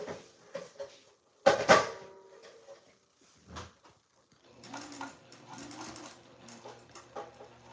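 A sewing machine stitches a hanging dish towel topper at a 3.5 mm stitch length, humming in steady bursts after a sharp knock and some handling clatter earlier on.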